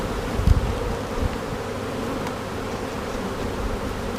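A honeybee colony buzzes steadily as a dense, continuous hum, with a couple of soft thumps near the start and no voices.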